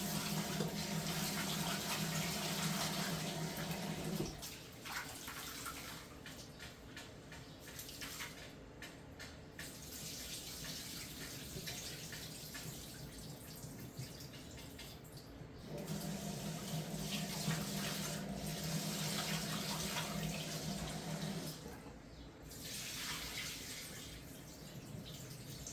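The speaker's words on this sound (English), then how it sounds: "Okay, so here's our rice. Gonna give it a wash." Rice is washed under a running tap, a steady near stream of water hissing into a bowl, shifting in tone as the grains are swirled and the flow changes, with no talk.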